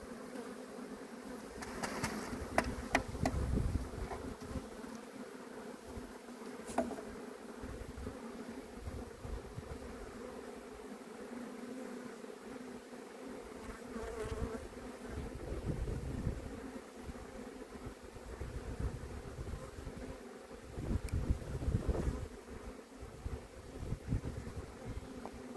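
Honey bees humming in an open hive with brood frames during spring hive work, a steady low drone throughout with occasional louder passes near the microphone and faint handling noises.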